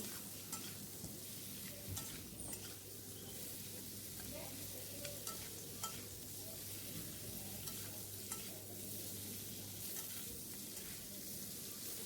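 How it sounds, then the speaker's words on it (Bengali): Pieces of fish seasoned with salt and turmeric fry in a pan, giving a soft, continuous sizzle with faint crackles and occasional light stirring taps, fairly quiet throughout. "এবার আমি এতে অল্প পরিমাণ লবণ আর অল্প পরিমাণ হলুদ দিয়ে আবারও ভালো করে এগুলো ভেজে নেব।"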